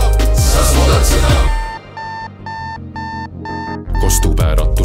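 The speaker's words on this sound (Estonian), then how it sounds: "Kostub äratus nii magusalt" An alarm clock rings within an Estonian pop song, five evenly spaced electronic beep bursts cutting through as the music drops out, then the full band returns.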